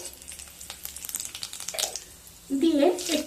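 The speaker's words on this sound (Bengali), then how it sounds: "কড়াইতে সর্ষের তেল দিয়ে দেব তেলের মধ্যে দুটো শুকনো লঙ্কা দুটো তেজপাতা এক চামচ পাঁচফোড়ন" Dried chillies, bay leaves and panch phoron sizzle in hot mustard oil in a kadai, crackling and spitting throughout, then swelling into a louder, busier fry toward the end.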